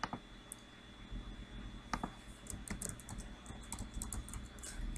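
Keys tapped on a computer keyboard while entering numbers, a steady run of light, close clicks across the whole stretch with a few sharper strikes, no voices.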